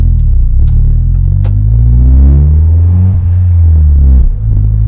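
A normal car being driven in a video game roars with a loud, steady engine rumble that rises and falls in pitch as it accelerates, with no voices over it.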